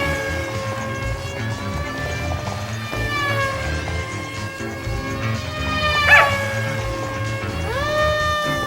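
Several dogs bark, yip and whine excitedly at a small model plane being flown low over them, steady overlapping calls over a faint motor hum, one sharp yelp standing out near the end.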